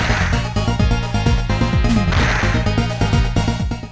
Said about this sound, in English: the sound of it impacting an enemy's skull produces one of the most satisfying sound effects I've ever heard